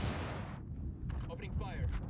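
A grenade blast in the tactical shooter Ghost Recon Wildlands hits hard and broad at the start, then rumbles away within about half a second. A low battle rumble continues and a voice speaks briefly afterward.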